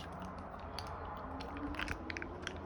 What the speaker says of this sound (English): No more paper. You don't need papers.